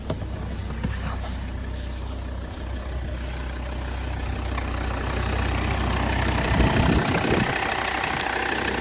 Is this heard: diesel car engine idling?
yes